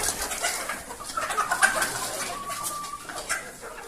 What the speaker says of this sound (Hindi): ये मेरी मुर्गियाँ, अभी इनको फीड दे के दिखाते हैं।